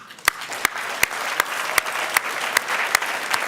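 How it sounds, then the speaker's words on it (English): Audience applause at a transit board of directors meeting, a moderate crowd clapping steadily with a few sharp, louder claps standing out at regular intervals. "ask everybody to give him a big round of applause"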